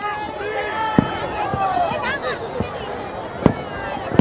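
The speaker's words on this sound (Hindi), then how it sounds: "सभी आप पटाखों की आवाज सुन सकते हैं" Scattered New Year's firecracker bangs pop at irregular intervals, a few sharp cracks standing out amid a busy crowd with shouting and talking voices.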